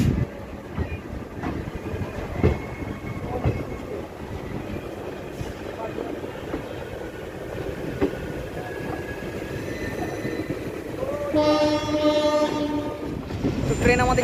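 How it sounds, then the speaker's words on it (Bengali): The Haldibari–Kolkata Intercity Express pulls away and runs with steady rumbling wheel noise and rhythmic clatter. Squeals and clanks come through, and a long horn sounds near the end. Faint voices are present in the carriage. "তো ট্রেন আমাদের ছেড়ে দিয়েছে"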